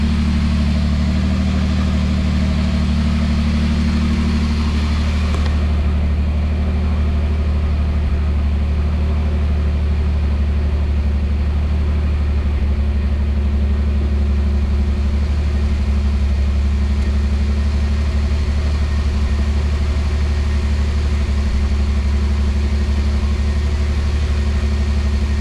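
A car engine idles steadily in place, a loud, even low hum that runs unbroken for the whole stretch with no voices.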